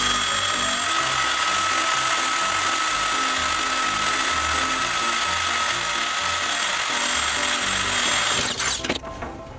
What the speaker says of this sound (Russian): Просверлил отверстие диаметром 10 мм.